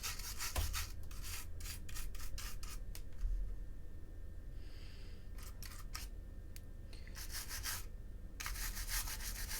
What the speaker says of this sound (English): just scrubbing that off and it's all coming off